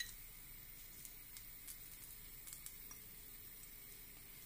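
A small hot piece of charcoal set into a single drop of oil on a saucer inside a moussaka dish gives a very faint, thin sizzle with a few tiny crackles, quiet and close with no voices.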